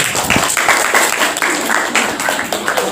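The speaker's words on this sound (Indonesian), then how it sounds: "Oke, berikan aplaus untuk kelompok 1 dulu." Applause for a student group in a university classroom: close, dense clapping from a small crowd that stays steady for about three seconds.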